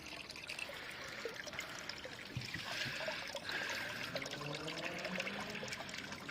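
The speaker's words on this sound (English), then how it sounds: "Loads and loads of water." Water draining from the flooded hull of a boat, a continuous pouring and trickling stream with gurgling tones, moderately quiet and steady, with no one talking.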